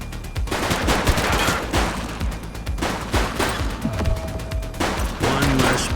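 Gunfire in the police game The Precinct: dense, rapid volleys of shots crack continuously through the clip, layered with bursts from several weapons and a brief tonal game sound underneath.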